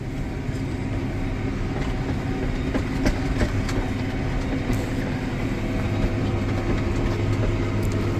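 A steady, low engine rumble from a tractor pulling a Kuhn ProPush 2044 spreader, with faint rattles and clunks over the continuous drone.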